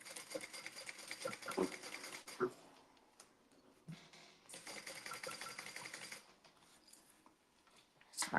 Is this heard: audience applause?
no